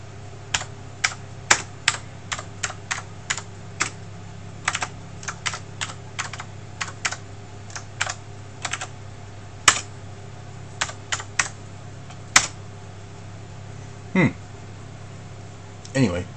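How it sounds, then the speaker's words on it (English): Someone types on an AT keyboard wired to a homemade Z80 computer, giving sharp close key clicks in irregular bursts over a steady background hum, with someone talking at times. "I've got it wired up to an AT keyboard as well."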